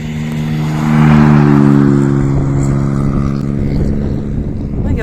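Rally car engine roaring past at a snowy rally stage, a loud steady droning growl that swells then slowly recedes, with a person talking over it.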